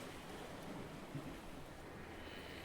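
Waves wash steadily around a Sunfish sailboat running downwind in light air during a women's North American championship race, with a continuous broadband rush of water and faint wind noise throughout.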